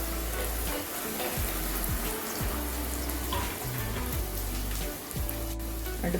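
Onions and green chillies sautéing in a pan for salna, a steady close sizzle running through with occasional stirring scrapes, loud and unbroken, with no voices over it.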